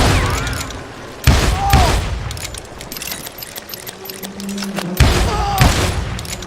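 Gunfire in the video game Call of Juarez: Gunslinger: two loud, close bursts of shots with booming impacts and ricochets, separated by quieter stretches of game ambience, and game character voices shouting at times.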